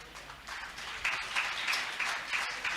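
An audience at a Telugu church gathering claps together in a steady, rhythmic beat, a dense crowd sound that lasts the whole clip.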